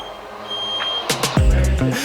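A high steady electronic tone cuts off, followed by a few sharp loud beeps and a low blaring burst from a fire alarm close by, a false alarm.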